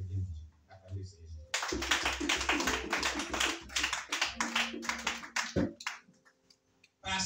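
Congregation at a church worship service claps rhythmically in acclamation of the Lord, a dense run of loud sharp claps lasting several seconds, with voices mixed in.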